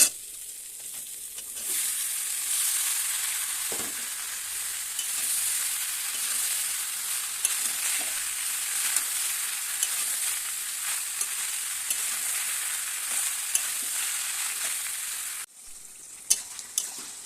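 Bottle gourd frying in cooked-down spice masala, a loud continuous sizzle with occasional stirring scrapes, close up and without talk, dropping off abruptly near the end before a few clinks.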